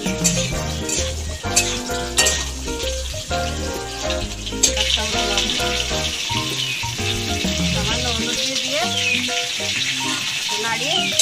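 Fish sizzling in hot oil in a pan, a loud continuous frying hiss with crackles and a brief stirring clatter, under music.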